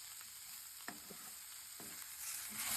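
Ivy gourd stir-fries in coconut oil with a steady, quiet sizzle and a few soft scrapes of a stirring spoon, building slightly louder at the end.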